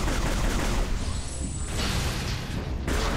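Rapid bursts of weapon fire from the player in Metroid Prime 3: Corruption pound against durable heavy Federation crates, a dense, loud, continuous barrage of impacts with no voices over it.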